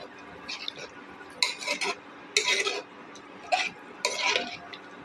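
A spoon scrapes and clanks around a metal pot of fenugreek leaf and toor dal curry in several short bursts, close by, with quiet pauses between strokes.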